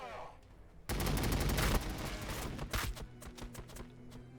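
Heavy gunfire fills a Warhammer 40k Battlesector battle as a dense volley erupts and rolls on for several seconds, then breaks into scattered sharp shots fading into a steady rumble.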